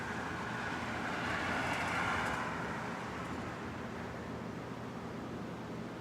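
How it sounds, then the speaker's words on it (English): Steady roar of car traffic from a highway right beside a home workshop, a continuous broadband wash of passing vehicles that rises slightly and stays constant throughout, with no talk over it. "I was wondering why there's always car noise in the background."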